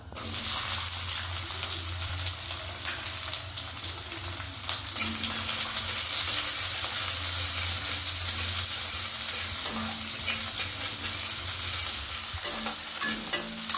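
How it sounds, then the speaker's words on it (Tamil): Onions and fennel seeds fry and get stirred in a hot pan, a steady broadband sizzle with a low hum beneath it and occasional scrapes and clatters, close by with no talking. "சோம்பு பொரியட்டும். அதில் இந்த வெங்காயத்தை சேர்த்துக்கிறேன்."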